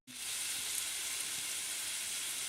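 Meat sizzling and frying steadily in a hot pan while filling for Russian pirozhki buns cooks, a dense, continuous close hiss that starts abruptly and holds even throughout with no talking.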